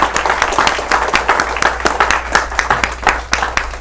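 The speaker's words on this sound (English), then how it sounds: "Let's give them an applause." Applause for a patriotic marching display at a school board meeting, a lively run of overlapping hand claps from a small audience, close and fairly loud throughout with no speech.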